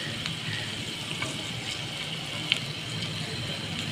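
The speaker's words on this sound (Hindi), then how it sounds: "थोड़ा सा पानी हमने इसमें डाल लिया है।" A little water poured into a frying pan over browned cumin gives a steady, fairly quiet rushing hiss that runs through the whole moment, with one sharp tick partway through and no talk.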